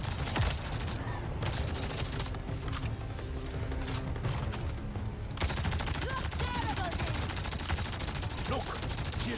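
Rapid bursts of gunfire crackle through a firefight in Avatar Frontiers of Pandora, with dense continuous volleys and a brief lull before the shooting resumes under a steady roar, and voices speaking faintly over the action.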